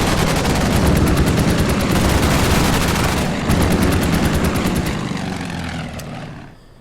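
Rapid bursts of gunfire in the Winter War strategy game Order of Battle, set at Suomussalmi. The firing is dense and loud with a steady engine drone underneath, breaks off briefly after three seconds, resumes, then fades out.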